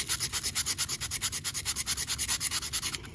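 Rapid, rhythmic rasping as a small metal jewelry piece is sanded by hand with rough-grit abrasive, about six strokes per second, close and steady and alone for roughly three seconds.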